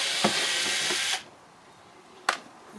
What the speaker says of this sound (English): I am using a cordless to remove them